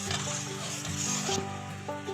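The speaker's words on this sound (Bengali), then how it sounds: "এবার একটু নাড়িয়ে দেবো এটাকে।" A spoon stirs homemade tomato sauce with Kashmiri chilli powder in a pan, giving soft continuous scraping and light sizzling up close, with no talk.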